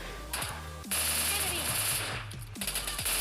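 Automatic gunfire in a mobile battle royale shooter game, with rapid bursts of machine-gun shots, loud and close, mixed with game music and effects.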